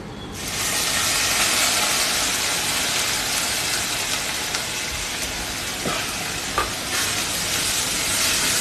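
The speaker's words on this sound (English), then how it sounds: "so literally we are cooking off the vinegar as well" Vinegar hisses and cooks off in a hot pan of market vegetables for a Goan-style xacuti, giving a loud, steady broadband sizzle that runs throughout with a few brief stirring clicks.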